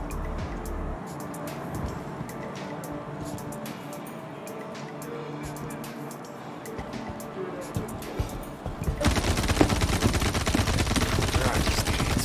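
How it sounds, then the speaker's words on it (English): Gunfire in the Star Citizen video game starts as scattered sharp shots over a low hum, then grows into loud, dense automatic bursts near the end, with a voice speaking briefly. "Oh, they're shooting everywhere."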